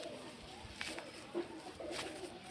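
A young pair of Giribaz pigeons coo quietly close by, with a few soft calls rising above a faint background hush.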